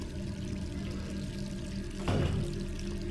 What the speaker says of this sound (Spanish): o nos hemos dejado el grifo encendido